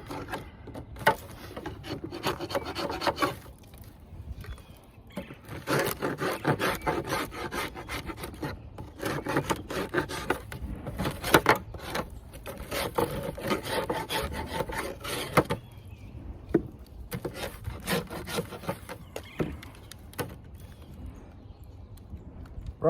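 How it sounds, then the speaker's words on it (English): An old wooden beehive frame is scraped clean ahead of beekeeping season, with repeated rough rasping strokes in a steady back-and-forth rhythm, close and continuous, pausing briefly now and then. "I'm gonna scrape this off."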